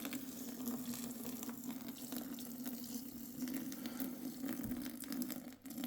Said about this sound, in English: And then I'll just slowly pour it on, making my way around to all the corners,